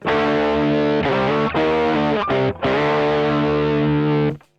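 Electric guitar chords through a gain pedal turned all the way up, drenched in heavy distortion, loud and sustained, with brief gaps between strummed chords before ringing out.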